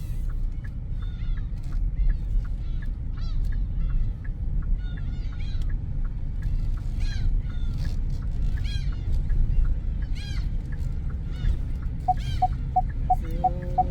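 Distant seagulls call repeatedly over a steady low rumble of wind or surf, with a short run of rhythmic squeaks near the end.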